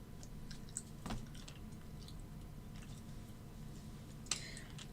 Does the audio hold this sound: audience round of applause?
no